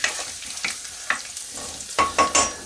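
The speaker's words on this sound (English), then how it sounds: "the remaining garlic, into the pan and give that a little stir around" Chopped garlic stirred around in a hot pan while cooking Hainanese chicken rice, with a soft, steady fry under a handful of sharp spoon scrapes and knocks that cluster near the end.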